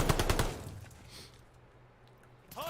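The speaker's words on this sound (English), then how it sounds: "Hard point's under fire." Gunfire at the hardpoint in a Call of Duty match opens with a loud, rapid automatic burst. A quieter, tense ambience follows, and more shots crack in at the end.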